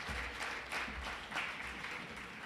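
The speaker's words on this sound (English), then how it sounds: "Give yourself a round of applause" A crowd claps steadily at a Sustain Rockford 10th anniversary celebration, a dense, even wash of many hands that carries on without pause, with no talking.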